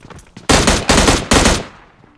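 M416 rifle fire in PUBG Mobile Lite at an enemy: three loud, close automatic bursts in quick succession, each a dense rattle of shots, fading between bursts with no voices.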